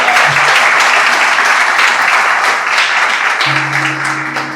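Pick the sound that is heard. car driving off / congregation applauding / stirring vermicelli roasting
congregation applauding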